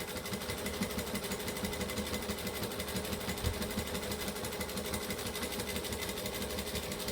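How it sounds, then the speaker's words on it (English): A sewing machine runs top stitching along a fabric edge, a fast, even mechanical whir and needle rattle held at a steady pace from start to finish, close and alone. "we're just going to do a top stitch right along this edge"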